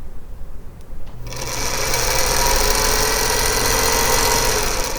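A sewing machine starts after a second of quiet room tone and then runs continuously, stitching fabric pieces together with a close, steady mechanical whir.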